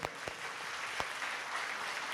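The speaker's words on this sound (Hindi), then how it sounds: "एक बार जोरदार अध्यक्ष जी के लिए तालियां बजाओ भाई।" Applause at a Bhagwat katha gathering, a loud, even wash of many hands clapping with a few distinct nearby claps standing out at the start.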